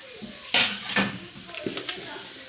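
Boiled tapioca being stirred with spice paste in a pot, a sudden clatter of a utensil against the vessel followed by softer scraping and knocks, with a voice talking over it.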